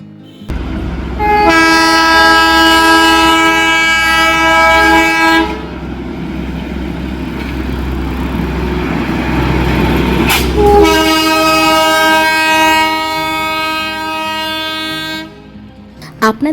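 Darjeeling toy train rolling along with a steady clattering rumble, sounding two long, loud horn blasts separated by a stretch of running noise.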